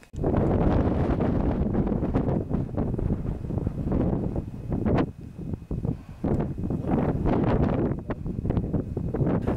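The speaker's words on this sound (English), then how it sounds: "it has been really windy" Strong wind buffets the microphone at about 4,900 metres near Everest Base Camp, loud rumbling gusts that surge and ease in waves, with no talk.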